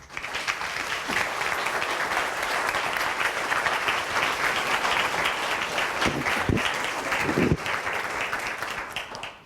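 An audience claps to welcome a speaker onstage at a talk on communication, with dense, sustained applause that holds steady for several seconds before starting to fade.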